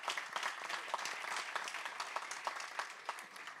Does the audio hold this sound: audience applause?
yes